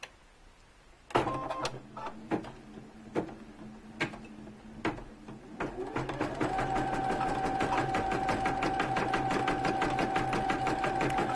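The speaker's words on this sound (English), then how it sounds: "the sound of this embroidery machine with any other, but it's not loud at all" A Brother Innovis 1500d embroidery machine: first several sharp isolated clicks and taps, then the stitching starts up into a steady, fairly quiet mechanical whir with a constant tone and rapid needle chatter.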